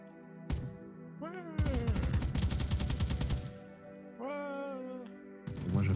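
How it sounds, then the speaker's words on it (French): Rapid automatic gunfire from a magazine being emptied in the video game Arma Exile, a dense burst of about a second and a half of loud shots, with game chatter and voices before and after. "je vais vider un chargeur aussi pour la merde"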